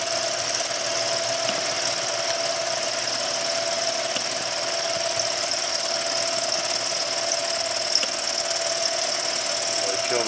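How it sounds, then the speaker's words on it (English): A milling machine cutter running at about 700 RPM slots aluminum, producing a steady, continuous whine and grinding hum with a faint high squeal, even in loudness throughout, with no speech. "I'm going around 700 RPM for the cutter speed."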